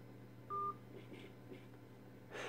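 A single clear telephone keypad DTMF tone, selecting a number from an automated phone menu, sounds briefly and alone over a low steady hum, followed by faint clicks and a short burst of noise.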